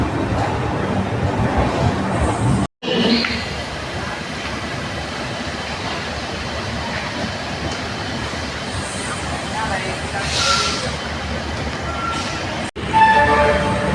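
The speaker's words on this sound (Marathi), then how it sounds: "आता ट्रेन स्पीड तर घेते, हळूहळू स्पीड घेते." The Indrayani Express rumbles steadily as it slowly gathers speed, its loud continuous rolling noise heard from inside the train and broken by two brief dropouts.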